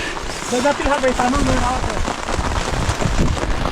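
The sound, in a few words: rain falling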